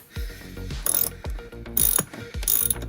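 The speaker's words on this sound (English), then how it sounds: "same as before, get our 14mm socket and" A ratchet on a 14mm socket loosening a seat bolt in a 2007–2011 Toyota Camry, giving rapid metallic clicking in a few short bursts with brief pauses between strokes, close and clear.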